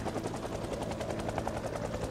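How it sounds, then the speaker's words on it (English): A video game helicopter engine drones continuously up close, its rotor chop a steady pulsing throb that holds at an even loudness throughout. "Helicopter's still running, about 5:10 here."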